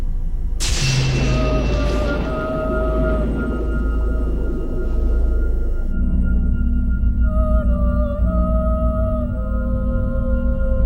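A sustained, eerie synthesized tone from the video game Xenosaga Episode 2 with wavering high notes floats over a deep droning bed after a sharp burst, continuing steadily throughout.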